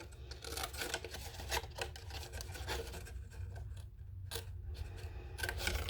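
Scissors snip through a paper card cover during card making, a quiet close run of short crisp cuts and rasping slides with soft rustling between them and no talk.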